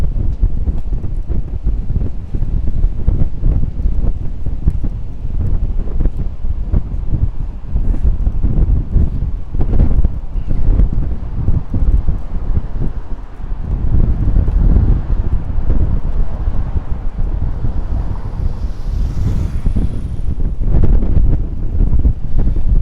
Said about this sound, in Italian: Qui il vento è veramente forte